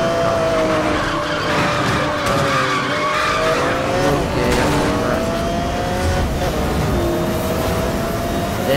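A car in Need For Speed Most Wanted (2012) skids hard, with loud, continuous tire squeal and engine roar that last throughout without a clear pause.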